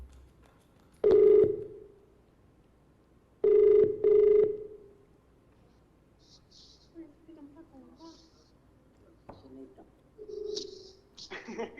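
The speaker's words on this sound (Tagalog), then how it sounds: "Dinig na dinig mo, nag-ring eh." A cellphone rings in short electronic bursts during a live TV call-in segment, one ring and then a double ring, over faint room noise and scattered chirps.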